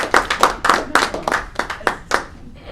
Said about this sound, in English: This is when we're supposed to clap.